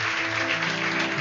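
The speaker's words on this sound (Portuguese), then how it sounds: "Você pode aplaudir a Jesus?" A church congregation claps together in praise, a brief burst of dense steady applause heard close with a held tone underneath.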